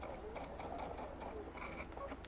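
Sewing machine stitching a plush horse stuffed animal, a steady close run of rapid needle clatter with faint ticking accents, continuous throughout.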